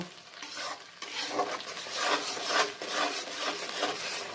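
Spiced pointed gourd paste is stir-fried in a pan, a steady rhythmic scraping and stirring with a soft sizzle underneath, close and continuous with no voices.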